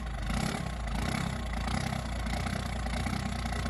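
A Cummins diesel truck engine running right after a long bout of starter cranking, a loud steady low rumble with a dense even idle throughout.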